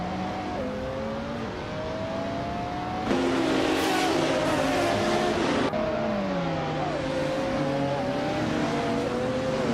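Racing-game cars, including a classic 1995 McLaren F1 GT, roar off the start at Seattle Circuit Reverse, with engines revving and shifting pitch and a louder burst of acceleration midway, continuous and close.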